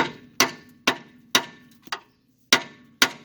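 Hammer strikes ring out one after another at a steady, unhurried pace while repairing body mounts on a second-generation Chevrolet Camaro, each hit sharp and metallic with a short decay, close by and alone.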